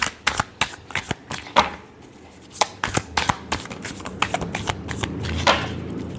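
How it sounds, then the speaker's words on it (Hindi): Tarot cards are shuffled by hand in quick, crisp riffling bursts and slaps, close up and fairly loud, with short pauses between rapid flurries. "last shuffle"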